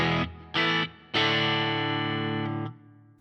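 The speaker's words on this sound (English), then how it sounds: "It is kind of on the edge of breakup" A Stratocaster electric guitar played through a Fender Mustang Micro, set clean with a little reverb at the edge of breakup, rings out in two short strummed chords and then one long sustained chord that slowly fades, with no talking.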